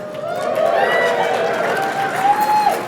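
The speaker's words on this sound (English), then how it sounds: "Let me hear a cheer." An audience at an award ceremony cheers on request, a sustained wash of crowd voices with whoops and calls rising and falling, loud and close.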